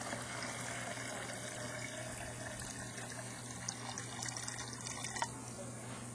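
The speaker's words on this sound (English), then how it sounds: "I'm going to put water in here." Water pours steadily into an Aqua Flo pump during seal repair, a continuous close splashing and trickling with a low steady hum underneath and a few small drips near the end.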